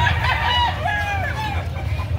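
A gamecock crows at a cockfighting venue in Cebu, one drawn-out call that rises and wavers close by, while other fowl call faintly behind a low crowd murmur.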